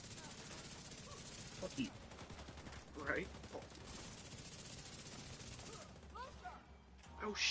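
Rapid automatic gunfire from a weapon in a video game, sharp bursts crackling in short volleys under a dense game soundscape, with someone talking throughout.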